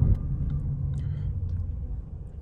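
A steady low engine rumble heard from inside a 2024 Ford Mustang EcoBoost with a turbo, continuous and even with no sharp changes.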